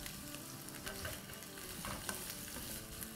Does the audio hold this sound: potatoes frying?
yes